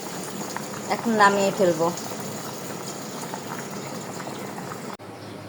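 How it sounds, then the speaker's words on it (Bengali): Rice boils in a pot for beef kacchi biryani, a steady bubbling simmer that runs throughout, with a short stretch of speech over it early on. "চাল আমার সিদ্ধ হয়ে গেছে"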